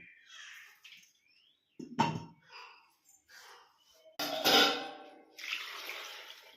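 Water is poured into a pot of cluster beans and salt, heard as short splashing gushes that come and go in bursts, close and moderately loud, with a louder pour near the end and quiet gaps in between.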